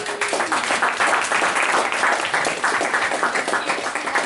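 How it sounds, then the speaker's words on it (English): A crowd applauds steadily, dense clapping filling the room for a few seconds at full strength. "That's a round of applause."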